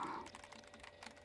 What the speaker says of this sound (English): Sue keeps banging away on her keyboard.